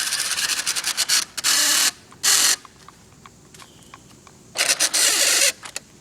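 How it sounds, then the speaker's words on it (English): A tiny electric motor and gears in a New Bright toy vehicle straining uphill, heard up close as intermittent bursts of high whirring and grinding, each lasting under a second, separated by quiet pauses. "That tiny motor is not exactly happy with New Bright at the moment,"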